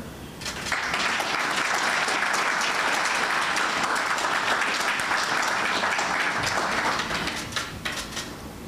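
Audience at an investiture ceremony applauds after a bouquet of roses is presented, a loud, sustained burst of crowd clapping that starts abruptly, holds steady for several seconds and then thins out toward the end.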